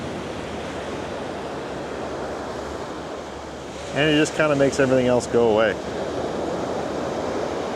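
Ocean waves wash steadily onto a beach as a continuous even surf roar from start to finish, with a person speaking briefly over it partway through.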